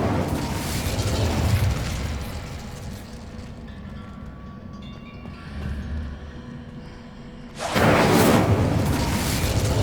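A fire spell, Incendio, cast in the video game Hogwarts Legacy, bursting out as a loud, broad whoosh of flame near the end after quieter ambient game sounds and a spoken incantation earlier.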